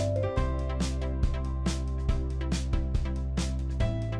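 A diesel engine running on gasoline it was mistakenly filled with, idling with a steady low rumble broken by sharp, regular knocks at roughly half-second intervals, close up.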